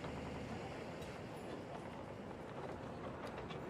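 A cargo train in the city-building game Cities: Skylines rumbles along as steady, faint, low rolling noise with no clear pauses.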